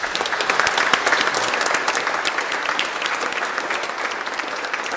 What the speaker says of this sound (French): Écoutez, on peut s'applaudir tous.